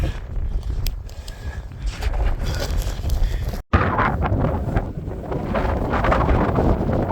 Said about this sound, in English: So it's a little windy up here